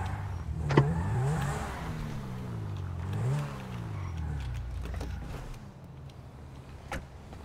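Car engine revving and accelerating in GTA 5, two swooping pitch rises close together followed by a steady idle and a sharp click near the end.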